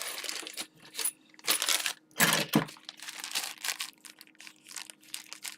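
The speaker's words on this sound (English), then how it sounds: "Little bag of screws." A small bag of screws for an amplifier power modification is handled up close, giving off metallic jingling and crinkly plastic rustles in short irregular bursts.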